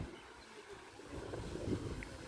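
Cool wind blows across Pathazhakundu Dam in Thrissur, heard as a soft, low rumbling buffet on the microphone. It swells gently and stays faint throughout, with no voices.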